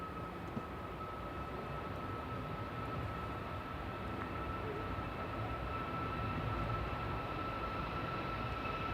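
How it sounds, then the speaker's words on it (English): A SunExpress Boeing 737 Max 8 departing Manchester Airport for Antalya, heard as a steady, distant, broad jet roar with a faint whine running through it. "That's Sun Express departing to Antalya, TCSMR, so Max 8, flight 593"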